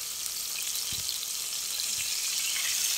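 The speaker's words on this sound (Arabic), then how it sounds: "فانا ابتدينا بقى نقلي السمك" Fish seasoned with salt and a little vinegar frying in a pan for an Alexandrian-style fish and rice dish, giving a steady, even sizzle throughout with no talking.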